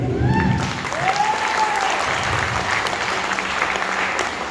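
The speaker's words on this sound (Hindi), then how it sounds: "और एक ताली अपने लिए बजा दीजिए" A room full of people at a seminar claps steadily, with a few voices calling out briefly at the start.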